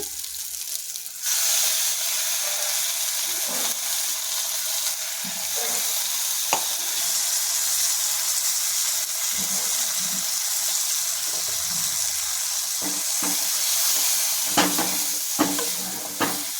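Ground paste and green chillies fry in a pan for lemon rice, a steady loud sizzle running throughout with occasional scrapes and clinks of a spoon stirring; no voices.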